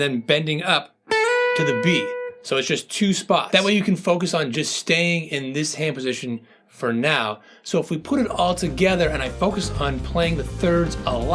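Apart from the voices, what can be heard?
No distinct noise like a dog, phone or traffic.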